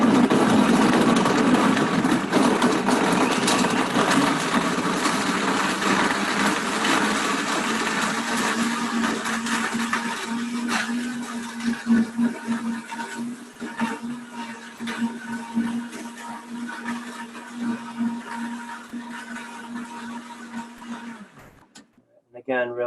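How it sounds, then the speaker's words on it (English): A kitchen blender whirs loudly and steadily while blending dates into a liquid with vanilla extract, its motor tone settling and then cutting off near the end. "I'm just going to run this in the blender for a minute just to get the dates all blended"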